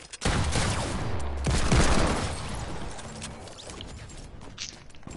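Dense rapid gunfire from a Fortnite match plays on PS4, a loud continuous barrage with booming low impacts that gradually thin out.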